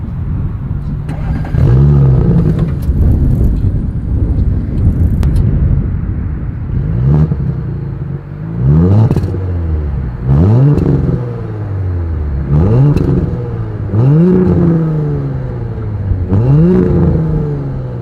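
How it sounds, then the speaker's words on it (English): An Audi S4 sports sedan's exhaust rumbles at idle, then revs repeatedly in sharp bursts, each rising to a throaty roar and dropping back, loud and close. "As always, here is that exhaust clip."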